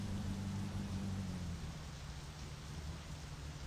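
Steady heavy rain pouring in the My Summer Car game, a dense even hiss with low thunder rumble underneath at first, continuous and without voices.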